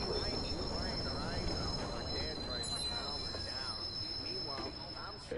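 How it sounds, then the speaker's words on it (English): A train pulls into a station in the Watch Dogs video game, with loud, close, sustained wheel squeal and rolling rail noise that fills the whole stretch. "Northbound train arriving shortly."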